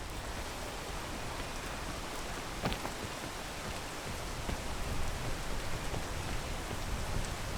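Steady rain falls in a video game landscape, a dense even hiss with a few sharper drop taps, continuous and unbroken, with no voices.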